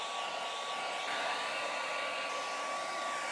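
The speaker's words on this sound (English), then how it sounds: "now for a quick blow dry" A hair dryer blows on a restored leather car seat from a BMW M3, with a constant loud, even whooshing hiss that runs steadily from start to finish.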